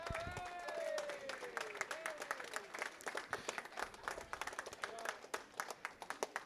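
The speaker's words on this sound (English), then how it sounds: "But how about a round of applause for Maui Prep for this season?" Audience applause for the Maui Prep team at the Hawaii Esports League Fall 2023 finals, a crowd clapping steadily in a large room, with tonal sweeps and voices mixed in underneath.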